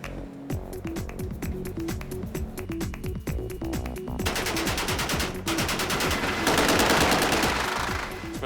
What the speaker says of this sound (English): Spent a lot of time getting through a lot of rounds with my machine gun.